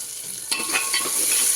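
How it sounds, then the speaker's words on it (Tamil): Small onions sauté in a pan for a quick cooker sambar, with a soft sizzle and a few scraping stirs of a spoon across the pan. "சின்ன வெங்காயம் கொஞ்சம் நல்லா வதங்கிறதுக்கு உப்பு போட்டுக்கலாம்"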